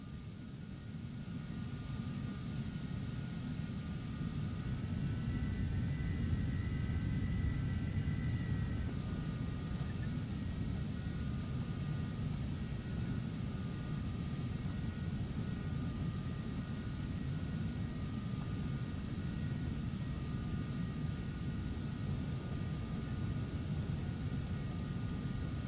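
A Phenom jet taxiing in a flight simulator game, its engines giving a steady, moderate whine and rumble that holds evenly throughout with no talking.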